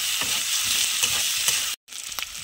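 Potato and fish curry stirred in a hot frying pan, a steady loud sizzle with scraping strokes from the spoon, broken by a brief gap near the end before the frying resumes.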